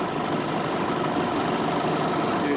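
A steady, droning boat engine idles close by, its low rumble and broadband hum holding constant throughout with no voices.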